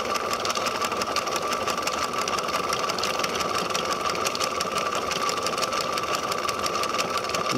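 A shaker table driver with adjustable stroke length runs steadily, a fast even mechanical chatter with a constant whine, close and continuous throughout.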